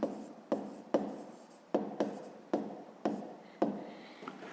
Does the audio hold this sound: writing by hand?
yes